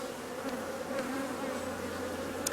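Honeybees hum on an open hive frame during an inspection of swarm cells, a close, steady buzzing drone with a few brief louder wingbeats passing near.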